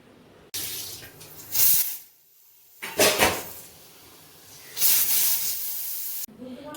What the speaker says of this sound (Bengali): এবার এটাকে প্রেশার কুকারে সিটি দিয়ে নেব ভালো করে